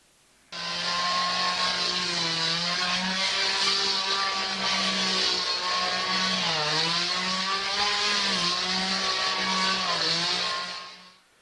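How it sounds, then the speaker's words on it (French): A chainsaw runs steadily and loud for about ten seconds, its high buzzing whine dipping briefly in pitch a few times as it bites into the cut, then cuts off at the end. "Et avec une tronçonneuse, ça donne ça."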